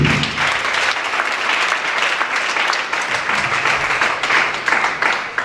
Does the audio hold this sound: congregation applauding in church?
yes